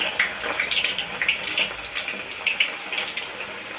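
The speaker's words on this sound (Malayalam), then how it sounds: "ഇനി എണ്ണച്ചട്ടി ചൂടാക്കിയിട്ട് അതിനകത്ത് 1 കരണ്ടി അളവിന് ഞാനിത് ആഡ് ചെയ്ത് ഒഴിച്ചു കൊടുക്കുന്നുണ്ട്" A ladleful of batter sizzles in hot oil, a continuous crackling fry with sharp little pops and spits, close and fairly loud.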